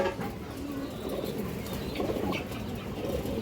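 Green-necked pigeons for sale in a loft give faint, low coos amid a busy, noisy background with occasional wing flutters and chirps.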